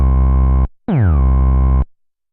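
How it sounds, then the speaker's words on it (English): Two loud synth bass notes from a bass patch: the first is held steady, and the second starts with a pitch slide driven by a mod envelope that sweeps down and then settles into a sustained tone, with no talking. "we'll get a nice slide as the pitch modulates."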